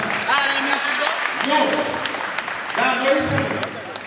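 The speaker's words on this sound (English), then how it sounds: "everybody give me a round of applause" A crowd applauds steadily for the whole stretch at a live talk, a dense wash of clapping with a voice speaking loudly over it.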